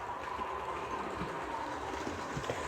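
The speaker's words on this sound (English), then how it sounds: "There's the Class 66 with the Royal Train again, and some extra carriages on the back of it." Class 66 diesel locomotive hauling the Royal Train with extra carriages attached, a steady rumbling train noise with faint rail clatter, continuous and fairly quiet throughout.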